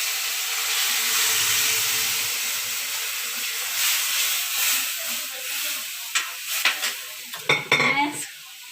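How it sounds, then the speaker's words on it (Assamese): Oil sizzles in a pan as dal is cooked in a home kitchen, with a steady close hiss and, near the end, a run of metallic scrapes and clatters from stirring. "এতিয়া পাকঘৰলৈ যাওঁ ব'লক দাইলৰ তেল মাৰিছোঁ"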